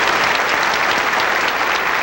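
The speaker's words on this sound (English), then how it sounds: "A rousing round of applause as Governor Cayetano accepts congratulations now on his State of the State address" Dense, steady applause from an audience greets Governor Cayetano after his State of the State address in Hawaii, continuous and close throughout.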